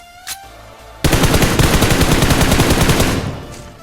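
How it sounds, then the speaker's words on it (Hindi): Rapid automatic gunfire in the PUBG video game at Pochinki: after a brief quiet opening, a loud, sustained burst of closely spaced shots fires for about two seconds, then cuts off. "मैं फायर देने की कोशिश करता हूँ लेकिन नाकाम।"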